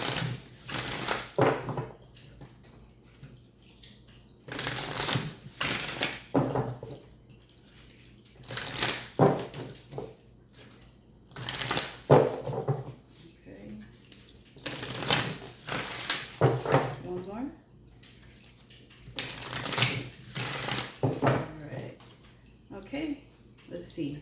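A tarot-style deck shuffled by hand in a quiet room, with repeated bursts of crisp riffling every few seconds, close and moderately loud, interleaved with softer handling sounds.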